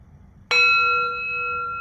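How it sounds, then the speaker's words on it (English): A single bell is struck once, a clear bright strike followed by a sustained ringing tone that hangs and slowly decays in a quiet room. "we're going to do the bell twice now just because"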